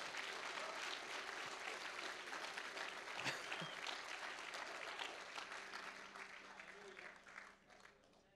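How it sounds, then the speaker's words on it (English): Church congregation clapping hands in praise during a sermon about Jesus, a long, dense, steady wave of applause filling the room, with voices and cheers mixed in before it tapers off at the end. "can you give Him a hand clap of praise that He came for you?"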